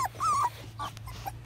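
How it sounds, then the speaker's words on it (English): A puppy gives a few high, yelping barks and whimpers up close, wagging its tail while playing in a new run, with quieter vocal sounds trailing after. "He's barking at it, wagging his tail."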